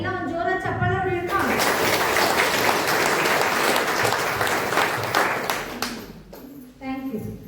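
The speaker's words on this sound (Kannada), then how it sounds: "ಎಲ್ಲ ಒಂದು ಜೋರ ಚಪ್ಪಾಳೆ ಹೊಡೆಯೋಣ" An audience at a foot pulse therapy camp in a math bursts into loud, dense applause that holds for several seconds and then fades, with a speaker's voice before and after it.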